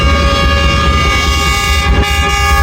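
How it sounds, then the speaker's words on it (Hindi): The Queen of Rawalpindi 8 Down express train, led by a GU40 locomotive, races past with a loud, steady rolling rumble and sustained horn tones running throughout. "क्वीन ऑफ रावलपिंडी 8 डाउन तेज़ गांव उड़ते हुए जा रही है जी"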